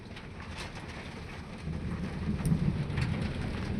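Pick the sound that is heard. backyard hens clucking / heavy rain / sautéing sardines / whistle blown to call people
heavy rain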